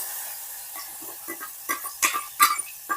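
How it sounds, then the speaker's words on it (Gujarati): Onion stirs and fries in hot oil with mustard seeds, cumin and curry leaves, giving a soft steady sizzle with quiet scraping strokes of a spoon in the pan. "જરાક ડુંગળીને હલાવી"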